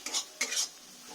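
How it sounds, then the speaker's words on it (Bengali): Spice paste frying in a pan over a raised gas flame, with two quick bright scraping stirs against the metal over a soft sizzle, close and brief, no voices. "ভালো করে মশলাটা কষে নেব, গ্যাসটা একটু বাড়িয়ে দিলাম।"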